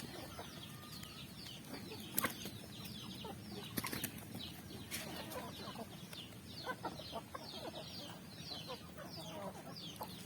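Native chickens cluck softly while eating feed, with scattered pecking taps and occasional wing flaps close by amid a busy low rustle.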